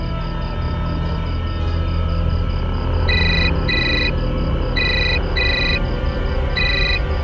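An unanswered telephone call in a Hindi TV crime drama: bright electronic ringing tones arrive in short paired bursts, repeating several times over a constant low hum and background drone, with no talk.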